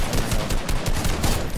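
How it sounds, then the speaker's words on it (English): Rapid bursts of gunfire from a sniper rifle fight in a battle royale video game, dense and continuous, close and loud throughout with no clear pauses between shots. "Oh, I just got sniped."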